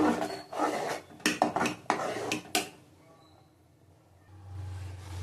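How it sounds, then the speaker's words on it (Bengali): Stirring chopped carrot and vegetables in a cooking pot for khichuri, with a run of close scraping and clinking knocks of a spoon against the pot, then a quieter low simmering hiss. "দিয়ে ভালো করে নাড়িয়ে নেবো"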